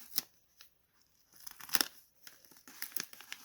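Sticker backing peeled off a fragile label while sealing a shipping package for graded card slabs, heard as soft, close crinkling and tearing in several short bursts with pauses between, alone and quiet.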